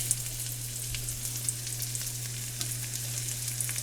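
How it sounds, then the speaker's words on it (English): Pheasant back mushrooms, also called dryad saddle, frying in a pan, giving a steady, even sizzle with faint crackles and a low kitchen hum, heard alone with no talk. "I'll go ahead and just get the mushrooms in and get them going."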